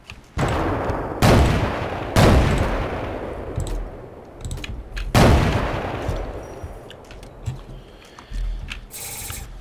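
Booming Barrett sniper rifle shots in the video game Ravenfield ring out with long decaying echoes, several spaced shots amid distant battle gunfire and clatter.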